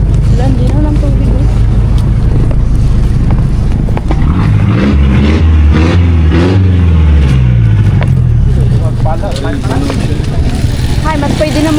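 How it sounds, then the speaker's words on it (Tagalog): A motorized boat on open water, its engine droning loudly and continuously close by, with rushing wind and water noise, the engine pitch rising and falling as it runs. "Dito naman sa bangka, magta-travel tayo ng 1 hour"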